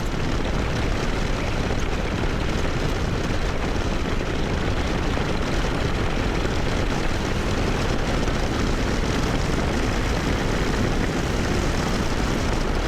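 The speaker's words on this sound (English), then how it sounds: "Feels good when you're running through the throttle though." A Harley-Davidson 117 motorcycle engine drones loudly and continuously on a 2024 Street Glide or Road Glide test ride, a dense, steady roar mixed with wind rush throughout.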